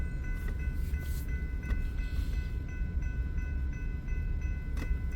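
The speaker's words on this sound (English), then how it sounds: "So as this train is building, our local with our crew on the caboose right now is holding right there." BNSF freight train rumbling near a rail yard in the Lincoln area: a steady low rumble and clatter of rolling cars with high metallic squeals and tones above it, continuous and fairly close, with no one speaking.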